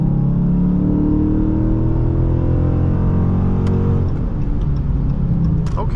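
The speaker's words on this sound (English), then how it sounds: "let's head out here and give it some gas" A 2021 Dodge Charger R/T accelerates on the road, its engine drone loud and close with a rising pitch that climbs steadily for about four seconds before easing off. No voices are heard.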